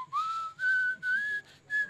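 A person whistles a short melody in four or five sustained notes, rising slightly in pitch, clear and close with quiet gaps between notes.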